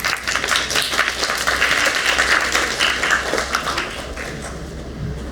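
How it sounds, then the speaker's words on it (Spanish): An audience at a medical science and innovation congress applauds, a dense wash of many hands clapping that holds strong, then thins and fades toward the end. "Por favor, un fuerte aplauso."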